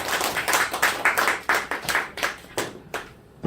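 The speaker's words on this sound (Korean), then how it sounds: "하나님께 먼저 다시 한번 영광의 박수 한번 드렸으면 좋겠습니다" A church congregation claps together in a quick run of close, fairly loud hand claps that taper into a few scattered claps before stopping.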